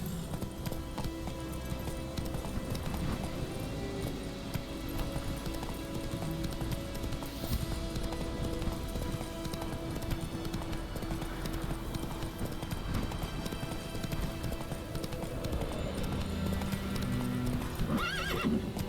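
Steady clip-clop of a horse galloping in The Witcher 3, fast rhythmic hoofbeats throughout with occasional neighs and a continuous game soundscape underneath.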